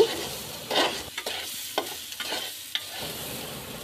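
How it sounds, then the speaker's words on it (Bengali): Washed chinigura rice is stirred and fried in a pot for beef biryani. A spoon scrapes and clanks against the pot in uneven strokes over a soft, steady sizzle, close up with no talking. "আমি সম্পূর্ণ চালটা দিয়ে এবার ভালোভাবে নেড়ে চেড়ে দেব"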